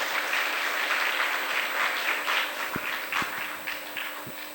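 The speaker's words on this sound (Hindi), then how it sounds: "सभी इनके लिए ताली बजाएंगे" An audience at a spiritual picnic celebration claps together in a loud, dense burst of applause that fades slightly toward the end, with a few heavier thumps mixed in.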